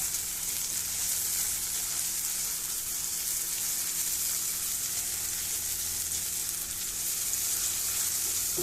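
Food frying in mustard oil in a home kitchen, a steady, even sizzle that runs unbroken throughout, moderately quiet and close, with no talking.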